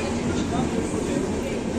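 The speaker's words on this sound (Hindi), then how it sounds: "मुरादाबाद से हमारी ट्रेन डिपार्चर होते हुए" Train pulling out of Moradabad station on the Dehradun–Subedarganj Express route, a steady continuous rumble of rolling stock heard from onboard beneath constant background noise.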